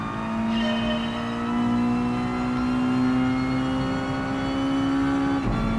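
A Mazda Miata race car engine in the Gran Turismo Sport video game, racing on the Dragon Trail track, drones loudly with a steady tone that climbs slowly in pitch as the car accelerates, then briefly drops at a gear change.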